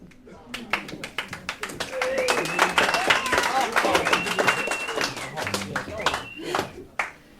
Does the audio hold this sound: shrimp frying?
no